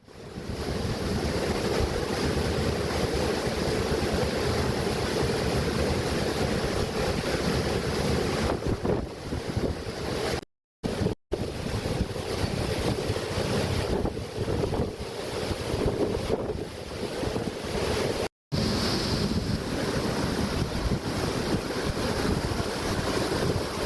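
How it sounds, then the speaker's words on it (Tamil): Water released from Vaigai Dam rushes into the 58th canal at 150 cubic feet per second in Theni. It makes a loud, steady roar mixed with heavy wind buffeting on the microphone, broken by two brief dropouts, with no voices. "வைகை அணையிலிருந்து ஐம்பத்தி எட்டாம் கால்வாயில் வினாடிக்கு நூற்றி ஐம்பது கன அடி தண்ணீர் திறக்கப்பட்டுள்ளது"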